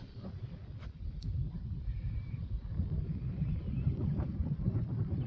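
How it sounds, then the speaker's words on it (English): Wind blows steadily against a fishing boat out on the water, a continuous low rumbling buffet across the microphone that stays close and fairly loud throughout, with faint clicks but no speech. "This wind just needs to go away."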